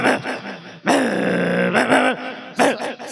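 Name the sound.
man imitating a male Mudhol dog growling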